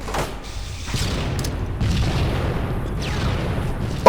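In Halo 2 gameplay, a grenade goes off as a low, muffled boom among rumbling game effects, followed by sustained noisy combat ambience with no talking.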